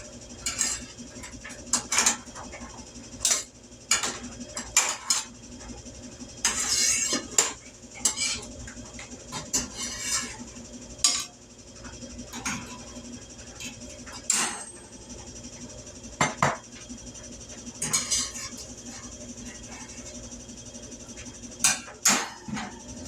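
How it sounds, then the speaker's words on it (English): Metal spatula scraping and clattering candied mixed nuts off a hot baking pan fresh from the oven, a steady run of sharp scrapes, clinks and taps close by with no talking. "Let's see if I can find a long enough spatula and get them out of there so they don't go to burning"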